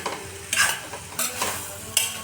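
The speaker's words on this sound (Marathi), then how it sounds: "छान मिक्स करून घ्यायचं." A spoon stirs ivy gourd (tondli) vegetable with masala in a pan, giving three scraping strokes over a soft steady sizzle, close up and with no voices.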